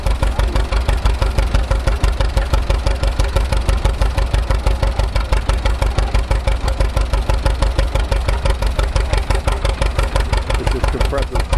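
An antique farm tractor engine runs while driving an old hay bale maker by belt and pulley, a loud, fast, even chugging pulse repeating steadily throughout, with a voice talking over it.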